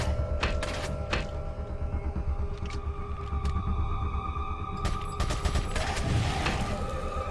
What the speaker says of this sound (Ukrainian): Я тупо вистріляв увесь автомат.